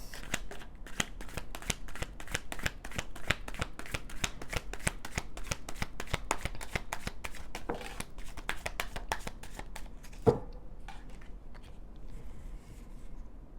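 Rapid, rhythmic riffling of tarot cards, many crisp flicks in steady succession, close up, ending with a louder tap and quieter fumbling.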